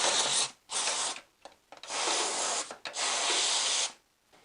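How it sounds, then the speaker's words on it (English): Compressed air blasts into a Mazda 626 cabin filter housing in a workshop: several loud, broad hissing bursts of varying length separated by short pauses, close to the microphone with no talking. "now we fill up our cheeks and give it a bit of compressed air"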